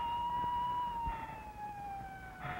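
An ambulance siren wails steadily at moderate distance, its tone gliding slowly downward over a low rumbling background, with no talking.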